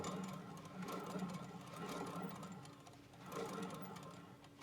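A repaired C415M piston compressor block runs quietly at a steady, even mechanical hum with a soft rhythmic knock, faint and unbroken.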